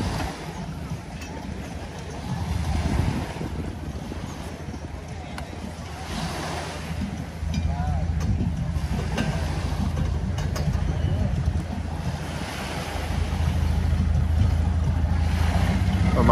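Boats mooring at Phi Phi island, Thailand: a steady low hum of boat engines with water and wind noise, nearby and moderately loud, while people talk in the background now and then.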